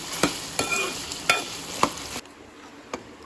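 Chicken sizzles in hot oil for a curry while a spoon stirs it in four sharp scraping strokes over a soft crackle, then the frying drops to a quieter hiss.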